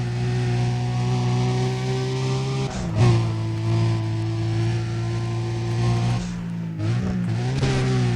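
A car revving and accelerating in Need for Speed: Undercover, a steady loud engine drone with a few gear shifts and brief dips, close and continuous with no talk.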